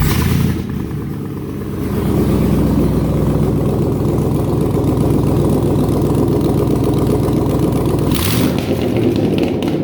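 LS-swapped BMW 325Ci V8 idling on open headers, a loud close rumbling burble with a lumpy rhythm, dipping briefly at the start and flaring near the end.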